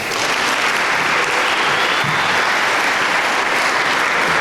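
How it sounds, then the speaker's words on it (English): A library audience gives a steady round of applause for its library director, dense continuous clapping throughout with no speech over it. "I just want to give a round of applause for our library director"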